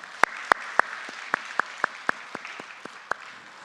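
A church congregation at a special Friday service claps in praise, a steady, evenly paced run of sharp, distinct claps roughly every third of a second, fairly faint and in a reverberant room.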